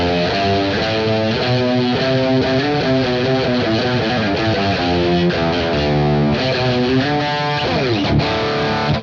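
Distorted electric guitar runs through the D Dorian scale, playing a steady stream of sustained, overdriven notes that step up and down without pause, loud and alone.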